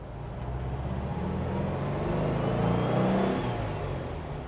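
A Porsche 356 engine on the move, a steady mid-pitched hum heard from inside the car that swells gently as it accelerates and then eases, with no talking.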